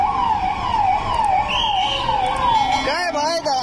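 A loud, rapidly warbling ambulance siren runs continuously, close by on a road in Mumbai, with its pitch shifting near the end and faint voices beneath it.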